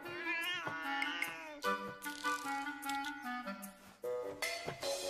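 A cat in an episode of Naruto Shippuden, in its Tamil dub, meows repeatedly in drawn-out, pitch-sliding cries, fairly close and clear, with little pause between calls.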